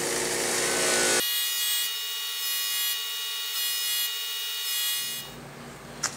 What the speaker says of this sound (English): I'm gonna go ahead and put it on the buffing wheel and shine it up a little bit